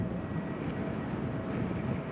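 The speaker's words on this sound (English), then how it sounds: "Edinburgh is just about to taxi now on the runway." A steady, distant jet airliner rumble and whine at Newcastle Airport fills the air as a continuous broadband roar, with no talk.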